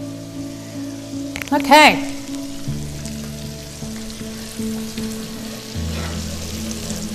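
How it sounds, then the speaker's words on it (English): Chicken pieces fry in a pan for chicken marsala, giving a steady sizzling hiss. Someone speaks briefly over it, and clinks and handling noises from the pan come through near the start. "We're gonna start frying this up."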